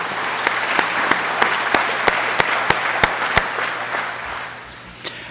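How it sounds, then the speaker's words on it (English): Audience applause at an electric cooperative's annual meeting, a steady clapping crowd with a few sharp, near claps standing out, fading toward the end. "If you could give all those organizations a round of applause"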